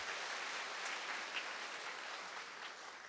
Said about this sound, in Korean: 그리고 박수 부탁드릴게요.